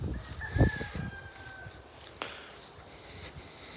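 A chicken on a home property with a greenhouse clucks and calls in a few short bursts, fairly close, with quiet background noise and no talking.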